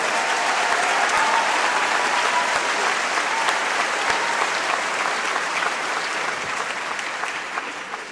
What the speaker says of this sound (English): How about a big Schenectady County Community College applause for Mr. Dion Flynn, our very own